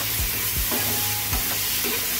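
Tomato and paneer are stirred and fried together in a pan over a high gas flame, with a steady sizzle under repeated scraping strokes of the spoon, close and fairly loud.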